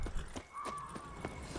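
Horses in The Witcher 3 game clop along in a quick, evenly spaced hoof rhythm at moderate distance, with a faint tonal whinny-like sound in the middle and no talking.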